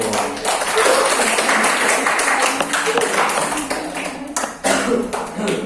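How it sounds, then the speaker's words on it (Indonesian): Steady, loud applause from students filling a university classroom, many hands clapping densely throughout with no one speaking. "Kasih aplaus dulu."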